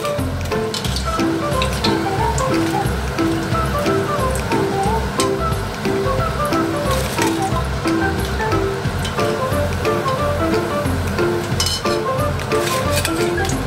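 Dahi vada fry in hot oil over a medium gas flame, giving a steady, close crackling sizzle like light rain, with faint tonal sounds in the background.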